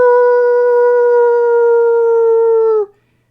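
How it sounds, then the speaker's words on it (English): A wolf-howl sound effect rings out as one loud, sustained, pure-toned howl lasting nearly three seconds before cutting off abruptly into silence. "You just kind of hear the wolf howl"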